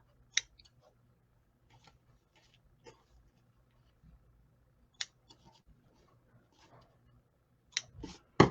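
Scissors trimming paper for a handmade gnome valentine card, a few quiet, widely spaced snips and clicks in a hushed room, ending with a louder cluster of cuts and paper handling.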